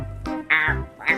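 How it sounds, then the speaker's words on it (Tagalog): Duck in a Minecraft Squid Game match gives several short nasal quacks, close and clear, with brief gaps between them. "Bakit may pato dito?"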